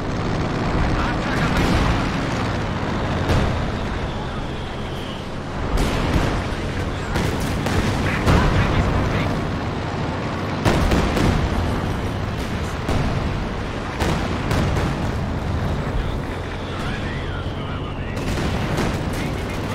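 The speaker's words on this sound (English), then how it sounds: "Artillery positions are ready to fire." Artillery fire in the Company of Heroes 2 video game, with repeated booming blasts and crackling gunfire in dense, overlapping bursts, loud and continuous, under intermittent talking.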